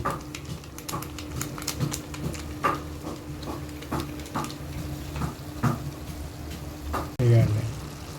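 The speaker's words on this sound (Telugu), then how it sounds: "నూనె పోయకుండా చికెను ఉప్పు వేసుకొని వేపిన తర్వాత ఉల్లిపాయ పచ్చిమిరపకాయ వేసామండి" Chicken frying in a pan with salt, onion and green chillies and no oil, a low sizzle punctuated by repeated scraping and stirring clicks, with a louder clatter near the end.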